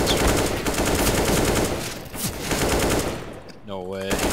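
Rapid automatic gunfire in the video game CS:GO rattles in dense continuous bursts, loud and close, breaking off briefly near the end.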